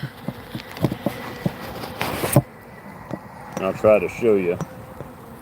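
Honeybees buzz around an Apiguard tablet at a hive, with scattered close buzzing and sharp taps while a person talks nearby.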